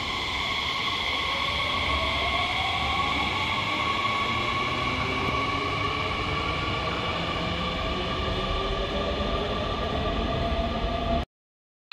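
An out-of-service Toyo Rapid 300 series train rolls in with a steady loud rumble and rising and falling motor whine, continuous for several seconds before cutting off abruptly.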